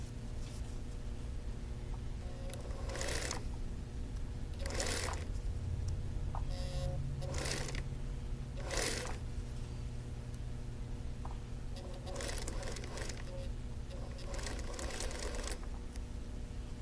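A sewing machine stitching a curved seam for a quilt block runs in short intermittent bursts of rapid mechanical chatter over a steady low motor hum and room noise, close and moderately loud.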